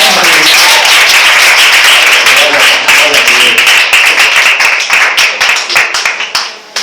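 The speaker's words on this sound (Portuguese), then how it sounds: "Só quem crê nisso, aplauda o nome de Jesus." A church congregation breaks into loud, dense applause that tapers into scattered individual claps and then stops near the end.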